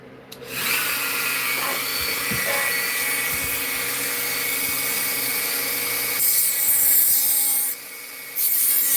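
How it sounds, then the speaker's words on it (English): A Dremel 4300 rotary tool spins up and runs continuously with a high, steady whine, briefly changing pitch and load near the end as it is pressed and eased off. "This is my Dremel 4300."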